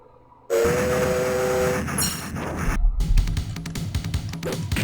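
Train sounds from a Teenage Mutant Ninja Turtles video game, with a horn-like tonal blast, a bright whistle sweep, then a loud, continuous rumbling clatter of rolling rail cars that swells toward the end.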